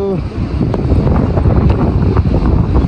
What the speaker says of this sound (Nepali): हावा चलेर यस्तो चिसो छ